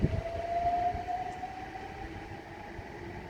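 A Southeastern train from Sevenoaks to London Charing Cross pulls away from Grove Park station, a rising motor whine over a low rumble that fades gradually, with a brief clunk at the start.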